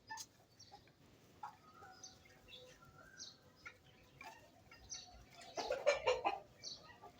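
Chickens clucking near a person scattering grain for them, with soft scattered clucks and calls building to a louder burst of clucking and flutter near the end, without talk.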